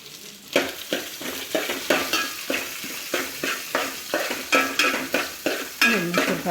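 Onions sauté in a pan for Kerala-style crab curry, stirred in a steady rhythm of repeated scraping strokes over a continuous sizzle, close and fairly loud with no voices.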